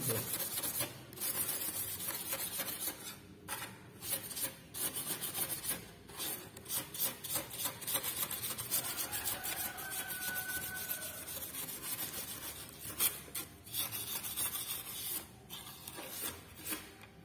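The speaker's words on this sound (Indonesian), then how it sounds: "Ini kita gosok dulu di sini. Jadi kita buat permukaannya agak kasar di sini." Abrasive rubbing on a copper PCB surface to roughen it before etching, a continuous scratchy scraping in irregular strokes with brief pauses, close and moderately loud, no talk.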